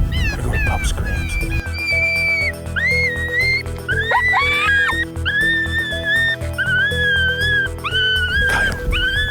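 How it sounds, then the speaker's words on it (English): Electronic game call blaring coyote pup screams outdoors in Alberta, loud drawn-out high wails and yelps that rise and bend, sustained for most of the stretch over a steady low hum, with brief rustling at start and end. "I'm gonna go to pup screams."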